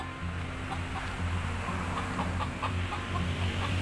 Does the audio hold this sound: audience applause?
no